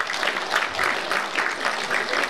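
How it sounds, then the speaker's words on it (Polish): An audience at a rural women's association comedy contest in Czerwionka claps steadily in a warm, rippling wave of applause that holds even throughout, with no voices standing out. "Wielkie brawa dla Lobos."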